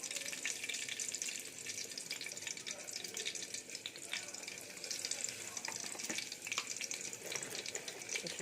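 Flat beans, potato and eggplant fry in a pan with turmeric and salt, giving a steady, soft, continuous sizzle with faint scattered crackles and scraping, with no talk.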